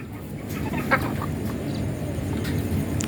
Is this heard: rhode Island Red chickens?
yes